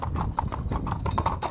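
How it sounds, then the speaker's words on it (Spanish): Horse hooves clip-clop in a steady walking rhythm as a horse-drawn carriage rolls through vineyards at a winery estate in Castilla-La Mancha, close and clear with no talk over it. "Vamos a comenzar la visita a la bodega con un paseo en coche de caballos por los viñedos"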